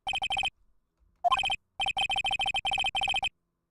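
An electronic telephone ring from the Phoenix Wright: Ace Attorney video game sounds in clear, loud bursts of rapid trilling tones, separated by short silent gaps, with no talking.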